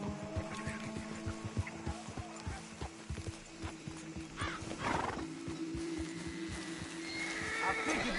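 In Red Dead Redemption 2, a horse whinnies loudly partway through amid clip-clopping hooves and outdoor rumble, while people talk over the scene.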